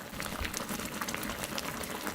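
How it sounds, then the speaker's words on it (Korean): Broth with fish cake and onion simmering in a pot, a steady close bubbling and popping that continues without a break. "자, 이때 어묵하고 양파가 완전 푹 익을 때까지 좀 끓여주세요."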